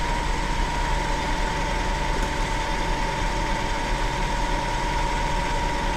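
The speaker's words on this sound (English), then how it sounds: "We're going to take off another 5 to 10 thousandths on this side, get rid of those saw curves," A milling machine edge-mills the second side of a metal meat tenderizer, smoothing off saw marks. It gives a steady, loud mechanical drone with a thin constant whine that runs unchanged throughout, with no talking.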